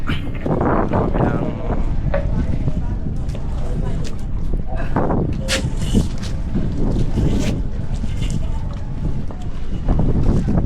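Motorboat rumbling across the water in the Philippines, from Cavite City toward Bolinao, Pangasinan, with wind buffeting the microphone and splashing, while people talk loudly over the engine noise.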